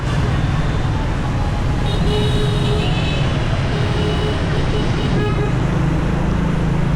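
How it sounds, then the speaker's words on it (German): Busy street traffic in Hanoi: a constant rumble of engines with repeated short horn toots, some overlapping, close by and loud throughout. "Und ehrlich, ich hab diesen Verkehr vermisst. Totales Chaos."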